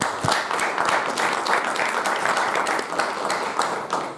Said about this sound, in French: Je crois qu'on peut applaudir monsieur le maire.